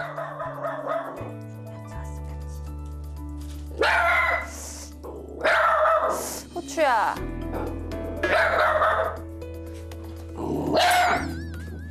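Two dogs bark and yip hard at a visitor in a home, with loud repeated bursts of barking alternating with people talking close by.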